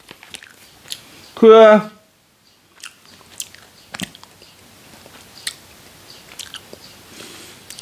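Someone bites and chews Chinese dried plums from Guangdong, with close, moist crunching and squishy chewing sounds in irregular bites after a brief spoken word.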